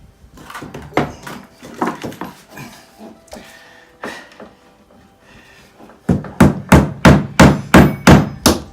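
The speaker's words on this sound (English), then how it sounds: "I think time to nail the front of the timber in" Nails are hammered into timber while framing a window opening into a door, with sharp, irregular blows at first and then a fast, even run of loud close strikes near the end.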